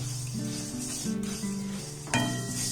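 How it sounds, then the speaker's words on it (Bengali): Sesame seeds dry-roast in a pan while being stirred, giving a steady close scraping rustle with soft crackling and a tonal hum underneath, and a brief louder scrape near the end. "তাই প্রথমে তিলটাকে আমি একটু নাড়াচাড়া করে ভেজে নেব"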